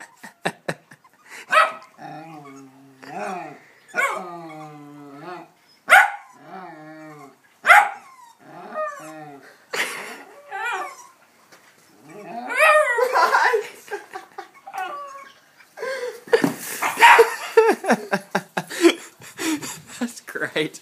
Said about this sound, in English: He's just barking at it